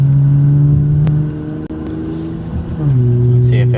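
A car with an idle fault being revved to warm up, a close engine hum that dips, then climbs again in pitch, with a brief click partway through.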